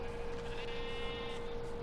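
Sheep bleat in the Minecraft video game, with a short wavering bleat that rises midway over a steady electronic hum and low background noise. There is no talk.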